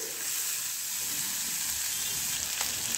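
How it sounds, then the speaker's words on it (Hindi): Semolina upma with almonds and curry leaves roasting in a pan, a steady close sizzle and hiss throughout with a faint clink near the end, no talking. "मिक्स कर कर हम इसे 2 मिनट तक इसे हम भूंजेंगे"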